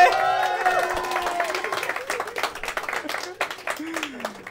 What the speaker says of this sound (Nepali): जोरदार ताली मोनिकाको लागि